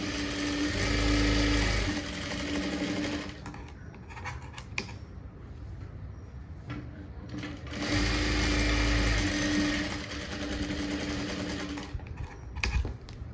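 A sewing machine runs in two long bursts stitching a blouse sleeve, a steady dense whir with a constant hum, pausing between runs with faint handling noises, no talk.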